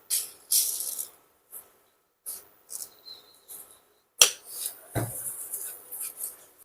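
Semolina filling with sugar and ground cardamom stirred in a pan, giving intermittent soft scraping and light clinks of a spoon against metal, close and fairly quiet, with one sharper knock partway through and no talk.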